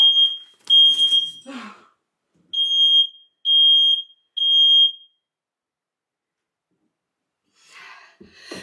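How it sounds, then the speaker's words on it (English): A smoke alarm in a stairwell shrieks in loud, piercing beeps, starting with a few brief chirps then three long tones, followed by silence and faint rustling. "Me and Sophie have hit that fire alarm every single time we've walked up the stairs with a package."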